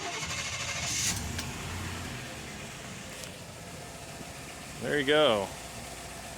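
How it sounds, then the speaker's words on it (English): A low-mileage square body Chevy one-ton four-wheel-drive truck idles with a quiet exhaust, a steady low rumble running throughout, while someone talks briefly near the start and again toward the end. "I'll also give you guys a quick startup of this thing."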